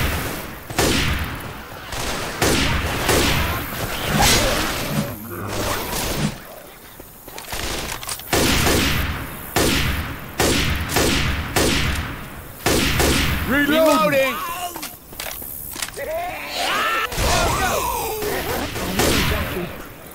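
Gunfire in a Left 4 Dead 2 match comes as repeated bursts and scattered shots, loud and near. Some clicking and mechanical sounds mix in between, and short lulls break up the firing.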